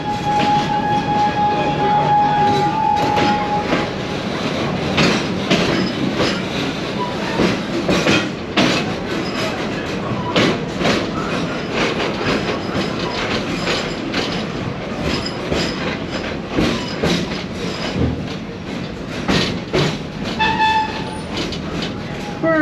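A theme park train ride rumbles along its track with steady clickety-clack, rattling cars, occasional wheel squeal and a short horn blast, heard from on board at close range with faint voices in the background.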